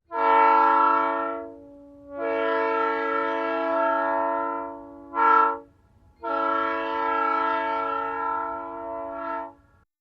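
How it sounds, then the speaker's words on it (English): A train sounds its horn repeatedly as it passes, with long sustained blasts broken by a short toot, loud and close over a faint low rumble. "the sound of train passing by"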